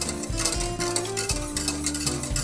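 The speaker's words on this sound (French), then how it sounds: "Il est important donc de remuer énergiquement car vous voyez la préparation commence à épaissir" A spoon scrapes and swishes steadily around a saucepan of thickening lemon curd for a lemon meringue tart, a close, continuous stirring with rhythmic strokes and light metallic contact.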